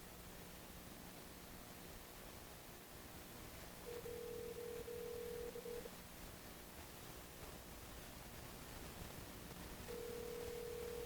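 An outgoing telephone call's ringback tone sounds twice, a faint, steady beep lasting about two seconds each time, separated by a long pause over a low hiss on the line.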